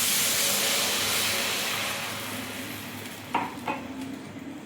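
Water poured into a pan of hot fried mustard masala gives a loud, steady steaming hiss that slowly fades, followed by a couple of brief clinks of a utensil near the end.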